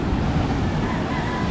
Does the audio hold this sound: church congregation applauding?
no